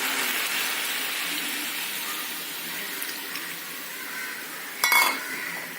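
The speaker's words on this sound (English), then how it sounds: "After 5 minutes, I am adding the tamarind pulp in it." Tamarind pulp simmers with orange peel in a pan, giving a soft steady bubbling hiss close by. A brief louder splash of stirring comes near the end, and no one speaks.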